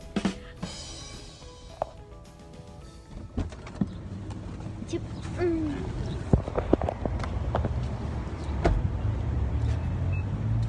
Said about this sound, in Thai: เฮ้ยเราเรายังไม่ดับเครื่องเลย